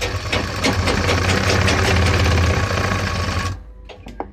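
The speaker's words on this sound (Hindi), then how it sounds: "उसके बाद यहाँ पर से सिलाई करेंगे।" A sewing machine stitches pant fabric while making a ticket pocket, running as a steady, loud mechanical whir for about three and a half seconds before stopping, followed by a few faint clicks.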